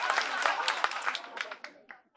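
An audience applauds at a comedy festival, a dense burst of clapping that starts loud and thins out over about two seconds, trailing into a few scattered claps.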